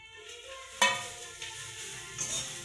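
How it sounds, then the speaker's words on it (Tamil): Red chillies and garlic being dry-roasted and stirred in an iron wok: quiet scraping and faint crackle, with a sharp metallic clink of utensil against the pan and a couple of lighter knocks. "மிளகாயை வறுத்துக்குங்க, தீய விடக்கூடாது, தீய விடாத வருங்க."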